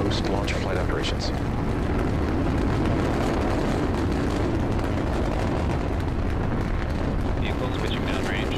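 Deep, sustained roar of a SpaceX rocket launching NASA's TESS planet-finder mission, a dense continuous rumble filling the whole stretch with crackle on top, with launch commentary voices faintly over it.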